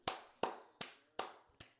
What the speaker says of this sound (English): Sometimes you just got to clap it up for good football.